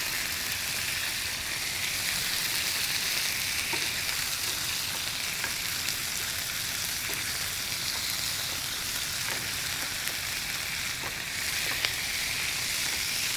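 Turkey fries in a pan with wine added, giving a constant, even sizzle and hiss close up with small pops scattered throughout.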